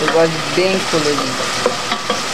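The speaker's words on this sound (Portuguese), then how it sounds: "enquanto tá fritando aqui" Salt cod filling fries and sizzles in a pan with some stirring, a steady crackle under a voice talking nearby.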